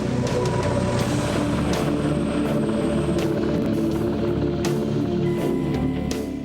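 A Black Hawk-based rescue helicopter thunders steadily and loudly nearby, its rotor beating continuously with a deep engine drone throughout.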